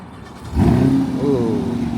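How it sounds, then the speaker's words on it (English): Chevrolet Corvette C8 3LT Z51 V8 fires up close by, a sharp starter catch at about half a second swelling into a loud, steady rumbling idle that holds to the end. "Let's start the engine."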